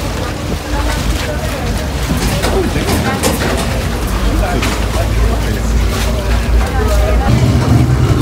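A water bus motor drones steadily on a canal in Venice, Italy, under loud wind buffeting the microphone, with voices chattering through most of it.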